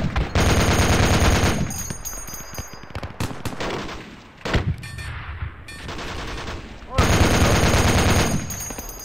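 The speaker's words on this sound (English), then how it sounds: "Hey, 50 cal. Stop firing for a second" .50 cal machine gun in the war game Project Reality, roaring in long, loud, rapid bursts at the start and near the end, with scattered single shots and quieter gaps between.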